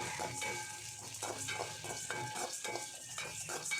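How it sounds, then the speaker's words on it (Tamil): Cinnamon, cloves and cardamom roast in a pan for a curry leaf pepper chicken, giving a quiet, close sizzle with soft scraping and stirring strokes repeating in a loose rhythm. "இதோடு கொஞ்சமாக பட்டை, கிராம்பு, ஏலக்காய் இதை நம்ம இதில் சேர்த்து அதே மாதிரி ஹீட் பண்ணி வறுக்க போகிறோம்"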